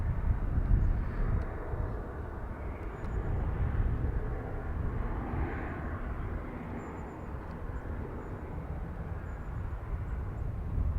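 A small airliner climbs away after takeoff at Dublin Airport, a steady broadband engine roar holding at moderate distance for the whole stretch with no voices over it.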